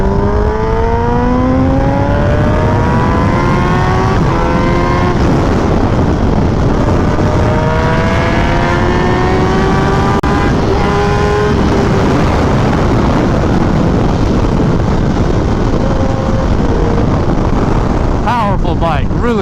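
A Kawasaki Ninja ZX10R motorcycle revs through several short, loud accelerating pulls, each engine whine climbing in pitch before easing off, under heavy wind rush close to the rider.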